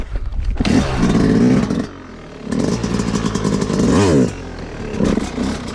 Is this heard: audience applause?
no